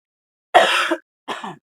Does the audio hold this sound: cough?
yes